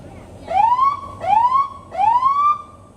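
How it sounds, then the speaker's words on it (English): A sheriff's patrol car siren whoops three times in quick succession, each rising wail loud and close, with no talking. "You want to hear our siren?"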